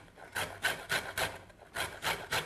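A lemon is rubbed over a zester in a cooking class, making a series of short, rhythmic rasping scrapes, about seven strokes, close but quiet, with no talk.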